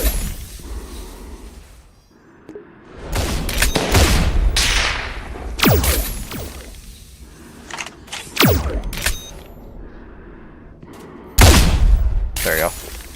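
Loud bursts of gunfire in a shooter video game, with several sharp shots and short volleys scattered irregularly over a quiet hum, and a voice occasionally heard between them.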